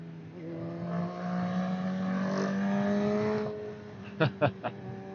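A motorcycle engine revs hard and steadily on a wet, damp road during a wheelie, a close, rising drone that holds for a few seconds before fading, followed by short sharp bursts.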